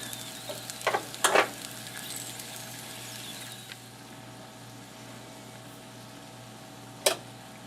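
Vegetables and basil fry in a pan over high heat with a soft, steady sizzle, broken by a few sharp clatters or scrapes near the start and one more toward the end, and no talking.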